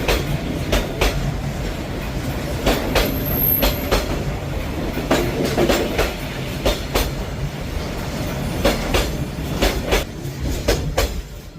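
A train rolls slowly through Hanoi's narrow train street, its wheels beating out a loud, rhythmic clickety-clack over the rails amid a steady rumble as the cars pass close by.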